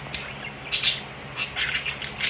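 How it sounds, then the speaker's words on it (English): Budgerigars squawking back and forth from a distance in a quiet room, a few short bursts of bright chirps and squawks spread across the clip, faint and intermittent. "him and Yo-Yo are squawking at each other from a distance"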